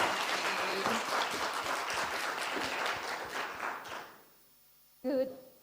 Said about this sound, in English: with a round of applause that burns all the calories you've eaten at lunch, put your hands together